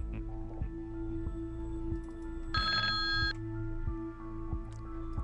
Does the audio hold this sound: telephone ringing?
yes